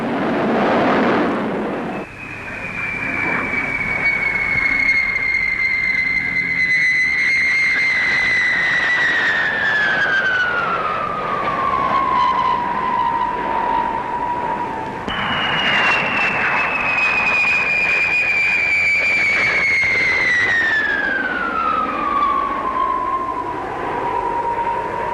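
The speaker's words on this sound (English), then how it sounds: "Here's the de Havilland Comet, a 36-passenger jet airliner and the first of its kind in the world." A de Havilland Comet jet airliner at the Farnborough air show passes in two long, loud sweeps of whining jet noise, the pitch sliding down each time as it flies by, with no talk.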